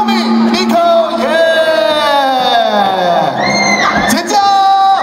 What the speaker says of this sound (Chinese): 掌声尖叫声